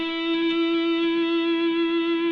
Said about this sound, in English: I'm going to take the organ sound off, and I'm going to add the distortion pedal.